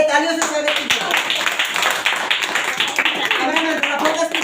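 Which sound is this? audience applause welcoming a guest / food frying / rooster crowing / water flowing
audience applause welcoming a guest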